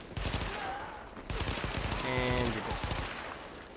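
Gunfire in The Division video game, with rapid bursts of automatic fire cracking close and loud while a voice talks over it.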